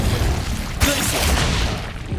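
Glacius freezing spell in Hogwarts Legacy on Xbox Series X: a sudden loud burst of icy, whooshing noise swells and lingers for about a second and a half over dense game sound.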